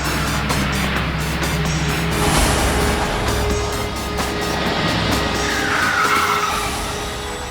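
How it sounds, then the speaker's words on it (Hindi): Car screeching to a sudden stop in a crime TV drama, a sustained tire skid over a steady engine rumble that rises and fades, fairly loud and close. "गाड़ी सामने आके रोक दी"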